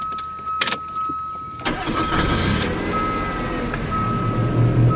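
A supercharged 60k-mile Mazda Millenia S sedan cranks and catches after a couple of seconds of faint clicks and a steady chime, then settles into a loud, close, continuous idle.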